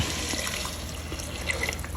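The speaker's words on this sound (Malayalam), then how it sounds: "നന്നായി ചൂടാക്കിയ വെള്ളം അതിലോട്ട് ഒഴിച്ചു കൊടുക്കുന്നു" Hot water pours steadily into a pressure cooker holding rice, a continuous close splashing and gurgling stream lasting the whole two seconds.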